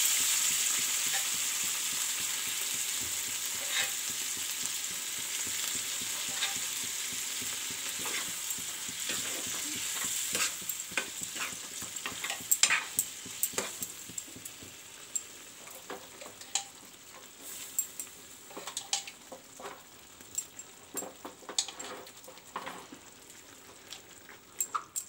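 A mixed vegetable curry, ghanta tarkari, fries in a pan with a continuous hissing sizzle. Stirring sets off scattered sharp pops and scrapes that grow busier in the second half, and the sound stays moderate throughout.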